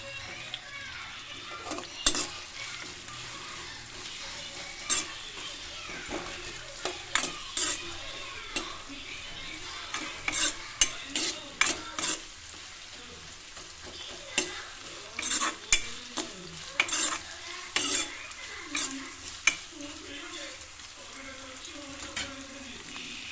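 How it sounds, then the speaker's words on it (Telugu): Onions and green chilies frying until brown, a soft sizzle broken by repeated sharp scraping and stirring strokes of a spoon against the pan, irregular and close. "ఒక 4-5 పచ్చిమిర్చి చీలికలు, కొంచెం దూరగా వేయించుకున్నాం, బ్రౌన్ కలర్లో వచ్చే వరకు వేయించుకున్నాం."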